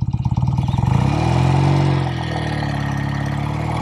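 A 1969 BSA Thunderbolt 650 motorcycle engine pulls away in first gear with a pulsing, throbbing exhaust that swells into a loud, steady rev, then settles into an even, close running drone.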